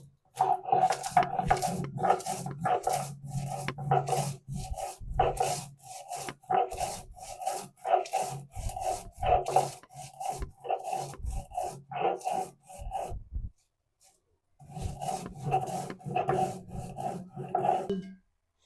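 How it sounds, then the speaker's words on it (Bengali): Chili, cumin and coriander are ground on a flat grinding stone, a rough rasping scrape repeated in quick back-and-forth strokes, close and fairly loud, with a short pause near the end before the grinding resumes. "এখন আমি মরিচ, জিরা, ধনিয়া এটা আমি একটু পাটায় বেটে নিব।"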